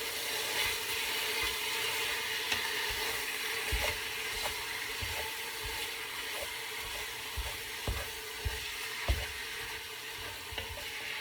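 Thawed ground venison browns in a hot pan with a steady, hissing sizzle. A spatula chops at the meat and clicks against the pan now and then, close and moderately loud, with no talking.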